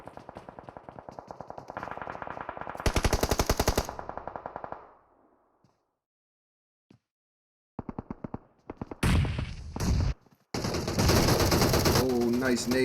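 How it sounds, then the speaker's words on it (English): Rapid automatic gunfire rings out in a competitive battle royale video game match, in loud, fast bursts separated by short silent gaps, with further heavy volleys near the end. "J-Star King rolls up into that building as a solo. He gets absolutely lit up"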